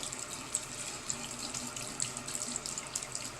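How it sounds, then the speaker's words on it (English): Tepid tap water runs steadily into a sink as a makeup brush is rinsed under it, a close, even hiss with small splashy ticks and no talking. "in the water with the brush part pointed down, and it's just tepid water"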